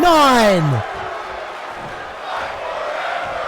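At a tag team championship wrestling show, a loud voice yells with a falling pitch, then the arena crowd settles into a sustained, rhythmic chant of two words that continues as a broad roar.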